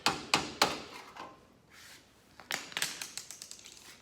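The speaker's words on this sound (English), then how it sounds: "Just put a chisel in it." Chisel hammered into a caravan panel during restoration work, a few sharp metallic strikes at first, a pause with faint scraping, then a quick run of lighter rapid taps, close and alone.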